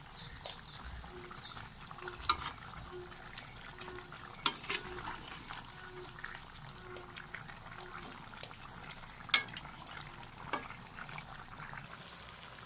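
Meat being stirred with ginger garlic paste in a pot, faint scraping and occasional clinks of a spoon against metal over a soft sizzle, with intermittent sharper knocks.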